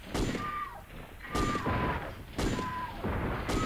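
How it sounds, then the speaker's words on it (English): Heavy 50-caliber gun firing in Dino Crisis 2, booming shots spaced about a second apart, each loud burst with a ringing tail, close and dominant. "This probably is like a 50 caliber crazy son of a bitch gun."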